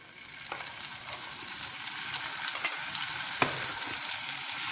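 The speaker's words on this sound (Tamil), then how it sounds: "இதையும் நல்லா நம்ம இந்த எண்ணெயில் நல்லா வறுத்துக்கணும்" Red chilli paste, made from soaked and ground dried chillies, fries steadily in hot oil with a dense, continuous sizzle, broken now and then by the sharp scrape of stirring.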